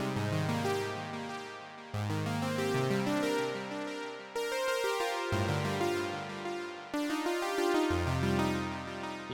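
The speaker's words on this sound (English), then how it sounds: "This is another OBXA sound." Oberheim OB-Xa synthesizer patch playing a bright, harmonically rich arpeggiated part with a little echo, in sections with brief breaks, alone and upfront without talk.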